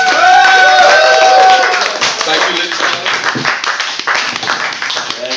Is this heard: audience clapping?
yes